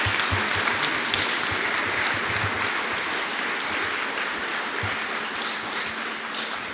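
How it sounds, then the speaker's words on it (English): An audience applauds after a conference talk, with steady, dense clapping from a full room that holds at an even level for the whole stretch and fades slightly near the end. "So let's give her a big round of applause again."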